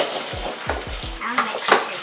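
Salted pumpkin seeds mixed by hand in a pan, producing a few quick rattling, scraping strokes with light clinks of utensil on metal, close and fairly loud.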